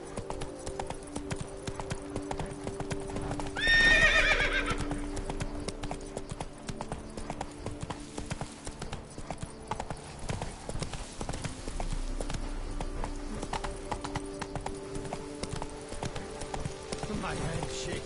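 Roach, Geralt's horse in The Witcher 3: Blood and Wine, gallops with steady, rapid hoofbeats under a constant bed of game music and ambience, with a brief louder swell early on.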